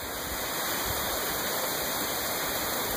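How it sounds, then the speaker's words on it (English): Water rushes steadily through a driveway drainage system, a continuous dense hiss like a small stream or waterfall, close and unbroken with no talking. "Yeah, that's the drain system that Jeff put in."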